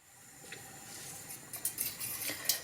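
A spoon stirs chicken in a simmering lemon sauce in a pot, giving soft scrapes and a few light metallic clinks that grow louder toward the end over a quiet bubbling background.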